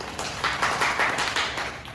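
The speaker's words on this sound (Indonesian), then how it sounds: "Boleh tepuk tangan." Primary school students clap their hands together in a classroom, a brief burst of many quick overlapping claps of moderate loudness, fairly close by.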